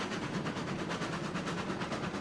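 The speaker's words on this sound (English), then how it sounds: "Train's running fine." Train rolling along rails in the game RailRoads Online, a steady rhythmic clatter of wheels with a low rumble running continuously and fairly close, no voices.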